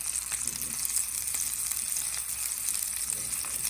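Squash and bell peppers sear in olive oil in a hot pan, a steady close sizzle and crackle that holds evenly throughout with no talking.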